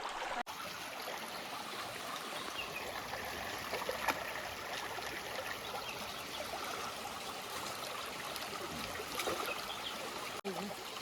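Water flows steadily through a small hand-dug channel beside a river, set up for catching eels, giving a continuous soft trickle and rush with no voices.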